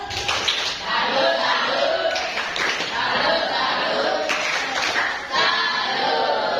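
A school class performs a 'tepuk salut' clapping routine, a loud burst of rhythmic group claps in quick patterned runs with pauses between phrases, voices mixed in among the students.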